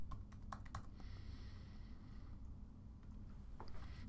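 Typing on a computer keyboard, a quiet cluster of key clicks near the start, then sparse soft taps over low steady room hum.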